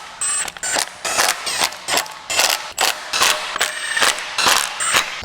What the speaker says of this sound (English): We're gonna run our bolts down the gun and then torque them.